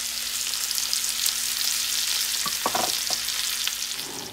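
Swordfish in sauce sizzles steadily in a 10-inch Karibe cast iron skillet, a continuous close hiss with a few soft clinks and stirring knocks near the end.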